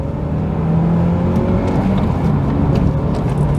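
A Honda Accord Type S CL9 with a K24 engine, running RE003 tyres, powers out of a corner: a loud, close, rising engine note with steady road and intake noise and no voices.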